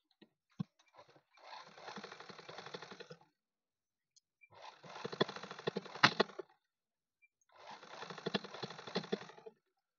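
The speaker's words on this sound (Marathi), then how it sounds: "तर मी आता उलट्या भागावरून सानी अशी शिलाई लावून घेत आहे" A sewing machine stitches a seam on the reverse side of fabric, running in three bursts of about two seconds each, separated by short quiet pauses, close and moderately loud with no talk.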